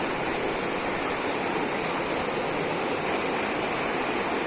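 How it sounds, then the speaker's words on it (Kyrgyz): A mountain stream at Besh-Tash near Talas flows in a steady, dense rush of water. The noise is continuous and fairly loud, with no voices. "Канча суунун акканы сонун."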